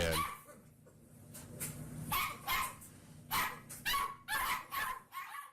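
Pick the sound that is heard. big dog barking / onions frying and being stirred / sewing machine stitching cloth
big dog barking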